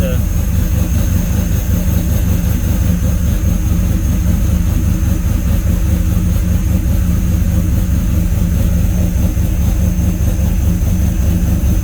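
A supercharged LSA 5.3 V8 in a C10 truck runs steadily up close, a loud continuous engine drone with a deep low rumble that holds level for the whole stretch.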